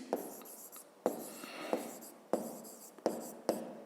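Pen writing on paper during a physics lesson, a close, steady scratching broken by sharp taps as strokes start, with no speech.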